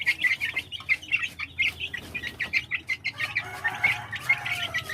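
A batch of young White Hatch cross chicks, about 24 days old, chirps in a busy overlapping chorus of high peeps and short calls, close and continuous with no talking.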